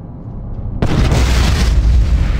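The Incendio fire spell bursts to life in Harry Potter and the Order of the Phoenix, a sudden loud whoosh that erupts from near-quiet and roars on as a sustained fiery rumble.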